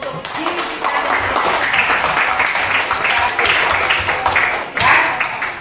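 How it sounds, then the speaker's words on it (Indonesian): Classroom applause during a teacher's performance-test lesson: a room of students clapping together in a dense, steady patter for several seconds, with some voices mixed in. "kita beri tepuk tangan untuk diri kita."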